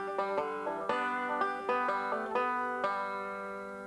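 Five-string banjo plays two measures of bright plucked notes with pinches and a skip lick, close and clear, a steady run of sharp attacks with ringing tails and no voice.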